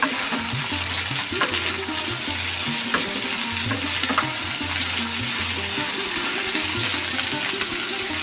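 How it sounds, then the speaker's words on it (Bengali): Potato and snake gourd stir-fry in hot oil, a loud, continuous sizzle broken by repeated stirring scrapes and clatters of the utensil in the pan. "আলু আর চিচিঙ্গাটা দিয়ে দেব একটু নেড়ে চেড়ে নিচ্ছি"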